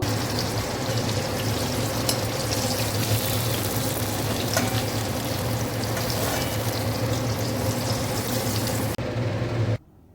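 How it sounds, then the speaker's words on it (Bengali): Pieces of pointed gourd (potol) frying in oil in a pan make a loud, continuous bubbling sizzle that runs steadily for about nine seconds before cutting off abruptly. "এভাবে সবগুলো পটল ভাজি করে নামিয়ে নেব।"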